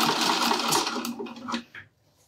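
A sewing machine runs a fast, steady stitching burst along a piping seam for a zippered pouch, loud and close, then slows and stops with a brief final whir before quiet.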